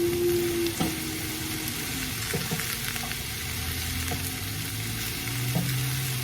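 Lasagna filling being stirred and mixed in a hot pan, with a steady close sizzle and frying crackle running throughout, broken by occasional scrapes and clinks of a spoon against the pan.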